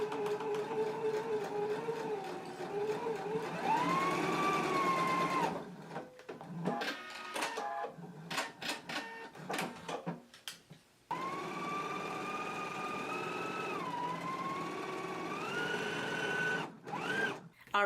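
A sewing machine stitches a shirt collar seam in whirring runs, its motor whine rising and falling with speed, broken by a stretch of short stop-start bursts before a long steady run.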